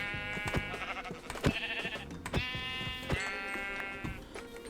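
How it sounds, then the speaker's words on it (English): Sheep in the Minecraft video game bleat several times in quick succession, wavering harmonic cries standing out clearly over soft game background sounds. "Here's one sheep."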